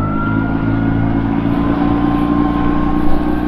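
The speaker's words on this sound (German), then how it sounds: "sondern man gibt einfach Gas." An inflatable boat with a 15 hp outboard motor accelerates as the throttle opens. A loud, close, steady engine drone holds throughout and swells slightly near the end.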